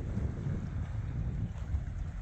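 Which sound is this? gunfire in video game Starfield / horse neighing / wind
wind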